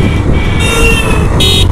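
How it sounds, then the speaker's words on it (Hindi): A car horn sounds in two short toots over steady engine and road noise from a vehicle moving along the Pachmarhi ghat road. "हॉर्न देना ज़रूरी है भाई साहब"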